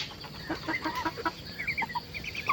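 Chickens cluck in short, repeated bursts on a farm where ducks are also kept, a few birds calling close by over a steady background hiss, with no talking.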